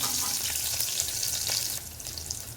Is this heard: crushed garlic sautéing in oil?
yes